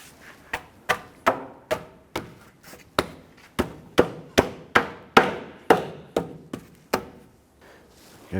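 Foam impact-absorber nubs being tapped into the bumper of a 2012–2017 Toyota Camry, around eighteen sharp close knocks in an irregular but steady rhythm, each decaying quickly.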